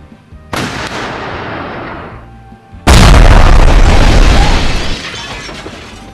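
Gunfire at a building in the Sakura School Simulator video game, heard as a loud boom and then a second, louder blast with a heavy crashing roar that slowly fades.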